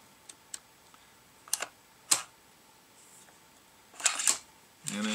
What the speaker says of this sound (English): let's take a look at this bolt, the bolt action on it.